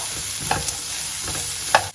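Chopped carrots fry in a pan with a loud, steady sizzle, broken by a couple of brief stirring clinks.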